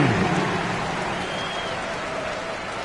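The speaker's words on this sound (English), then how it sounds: "Let's give him a big round of applause." A crowd applauds at a basketball game, a dense, steady wash of clapping that starts loudest and eases slightly over a few seconds, with no clear speech over it.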